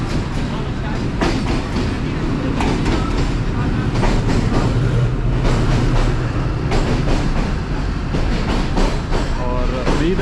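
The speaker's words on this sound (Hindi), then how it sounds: "ये सामने ZC206406 के साथ रावलपिंडी से निकली है कराची के लिए" A passenger train from Rawalpindi bound for Karachi, hauled by locomotive ZC206406, rolls through Wazirabad Junction in heavy fog with a loud, continuous rumble of wheels and rattling coaches, rhythmic rail clacks and occasional metallic squeaks close by.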